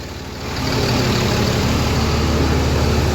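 Truck engine idling steadily with its turbo spinning, a loud, continuous low rumble that swells up after the first half second and holds constant, with a faint high whine on top.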